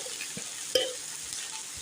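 Chopped onions and plenty of chilies frying together in oil with black cumin seeds, a steady soft sizzle with one sharp clink of a stirring utensil partway through.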